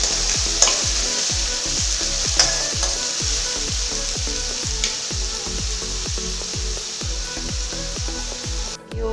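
Onions fry in oil with cumin and coriander, a loud close sizzle over a rapid, regular scraping rhythm of a spoon stirring against the pan, no voices.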